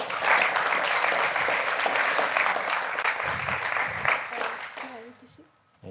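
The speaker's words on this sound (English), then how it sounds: "Let's give her a warm applause." Audience applause fills a meetup auditorium, steady and fairly loud for about five seconds before fading out, with a voice speaking over the clapping.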